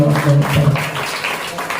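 A church congregation claps for God during a sermon, a brief burst of dense applause mixed with voices.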